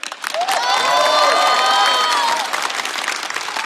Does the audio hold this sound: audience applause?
yes